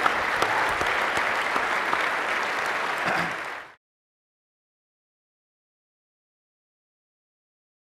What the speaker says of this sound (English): that's worth just some applause in general